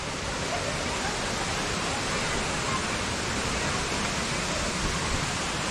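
Steady broadband rush of a waterfall in Indonesia, continuous and fairly close, filling the whole stretch without pauses.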